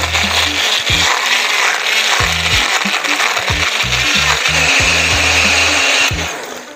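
A blender runs loudly for several seconds, its motor roaring while a drink of wine and condensed milk knocks and rattles in uneven bursts before it winds down.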